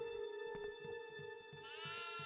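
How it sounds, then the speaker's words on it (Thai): In the horror game Devour, a goat lets out a wavering, tonal bleat near the end, heard over a steady humming ambience and a regular soft low pulse. "อ๋อนี่ไงแพะ"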